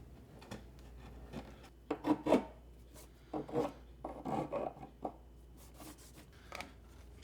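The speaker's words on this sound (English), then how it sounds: "Chisels do really well at cutting in damage." Steel chisel scraping and gouging distressing marks into the wooden board of a DIY floating shelf, in irregular rasping bursts of scraping and rubbing, close by, with quiet pauses between strokes and no talking.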